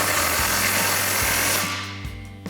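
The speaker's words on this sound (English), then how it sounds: "we're gonna grab our impact 15mm socket, tighten that down" Impact wrench with a 15mm socket tightening a muffler clamp on a Ford F-150 EcoBoost Flowmaster FlowFX single exhaust, a loud continuous buzzing whir that runs steadily for about one and a half seconds, then cuts off into a few short bursts and clicks.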